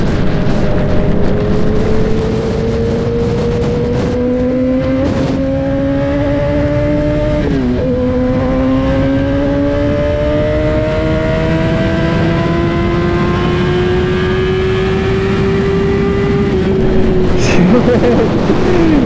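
Kawasaki ZX10R sport motorcycle accelerating hard past 220 km/h, a loud rising engine howl climbing through the gears with a brief dip at a shift, heavy wind rush underneath, close and continuous.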